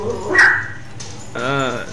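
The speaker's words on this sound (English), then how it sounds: "And my dogs will not shut." Dogs bark and yip indoors in a few sharp, close outbursts, with some whimpering; a person's voice is also present.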